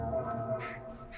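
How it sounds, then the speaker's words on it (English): Crows caw in the video game Towers of Aghasba, giving a few short, harsh calls over a steady ambient game background. "Birds."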